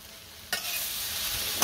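Khorkon greens with green chillies, garlic and onion frying in a pan, a sudden burst of close sizzling that holds steady, with a brief louder flare at the end.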